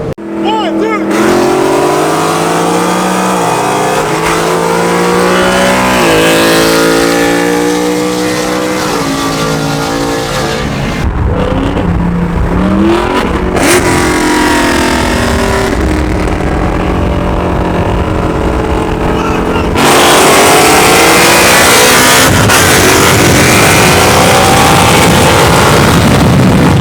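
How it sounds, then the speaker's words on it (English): Ford Mustang fitted with a Flowmaster Outlaw catback exhaust and H-pipe revs loudly and close up, its engine note climbing and falling through repeated throttle blips before settling into a sustained roar. "H-pipe installed with the Catback. Guys, the Mustang is loud, exactly how I want it now."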